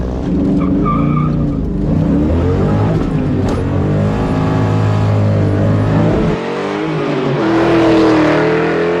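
A 1997 Mustang Cobra launches hard on a speed run, engine roaring loud and close with screeching wheelspin, a brief shift dip, then a rising rev as it pulls away.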